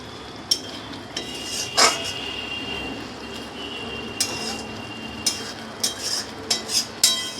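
A utensil scrapes and clinks against a pan while fish curry is stirred, sharp metallic taps scattered irregularly over a soft simmering hiss, close up and fairly quiet.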